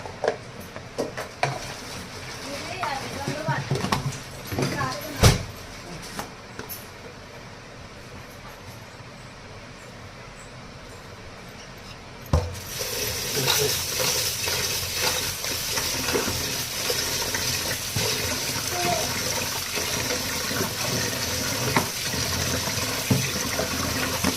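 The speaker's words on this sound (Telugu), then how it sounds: "చికెన్ పకోడీ చేస్తున్నాం. Chicken fry." Chicken pakodi frying in oil while being stirred, faint clinks and stirring at first, then a loud, continuous sizzling hiss for the second half with occasional scrapes.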